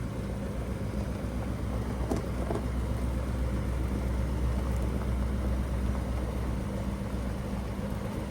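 A 1948 Cadillac drives under its own power for the first time in years after a transmission service, a steady low engine rumble and road noise heard continuously at moderate level from inside or close by.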